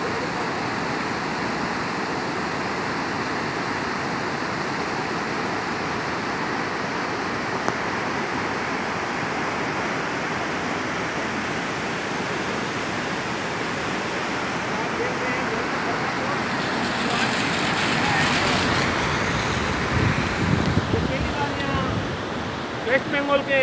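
The Balasun river in the Siliguri–Darjeeling area of West Bengal rushes in a strong, swollen current after rain, heard from a bridge as a steady, loud broadband roar of water that continues throughout.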